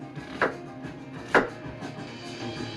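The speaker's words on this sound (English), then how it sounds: "I like to take the first layer off the onion. Like to Yeah. chop the end off, like so. Just make a bunch of cuts." A knife chops through an onion on a board, with two sharp, distinct cuts about a second apart over a soft, quiet background.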